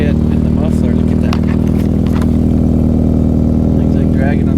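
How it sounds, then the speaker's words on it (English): A Honda-swapped Nissan 240SX with an exhaust leak idles loud and close, its steady low engine rumble filling the whole stretch with faint noises on top. "But it's got a little bit of exhaust leak."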